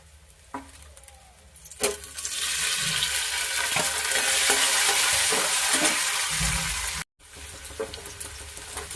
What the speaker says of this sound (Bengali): এবার চিংড়িতে আলুটা ভেজে নেবে